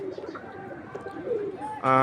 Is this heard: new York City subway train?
no